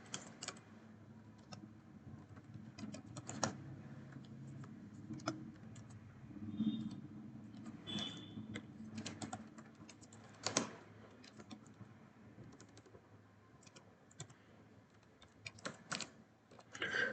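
Steady typing on a computer keyboard while entering a company name into a title block during AutoCAD drafting work: quiet, close clicks in irregular bursts with short pauses.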